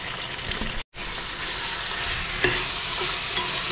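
Chicken with ginger garlic paste and whole spices being stirred and fried in a pan: steady, close sizzling with scraping stirs, a brief cut near the start, and a few louder clinks of the spoon.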